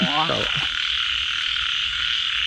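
Frogs croak in a rice field on a rainy night, a quick burst of close, rapid croaks at the start, then a steady hiss of rain and insects filling the rest.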